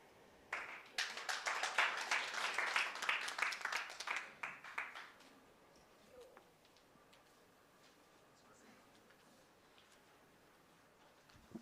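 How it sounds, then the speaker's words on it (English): An audience at a county government review meeting claps for about four seconds, a dense burst of hands that fades out, followed by quiet room tone. "I think she deserves another Nyayo clap"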